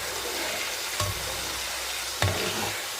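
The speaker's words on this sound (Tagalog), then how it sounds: "Ipilitin na natin ang ating bawang." Garlic sizzles and fries in oil with a steady hiss, broken by two brief louder bumps or stirs.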